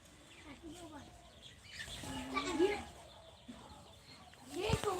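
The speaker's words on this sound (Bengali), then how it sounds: "পাখির ডাক" Scattered bird calls ring out in short bursts, a couple of clucking, chirping cries rising over a quiet outdoor background.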